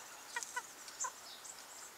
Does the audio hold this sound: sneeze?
no